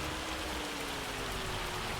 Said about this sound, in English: that rain is not doing us any favors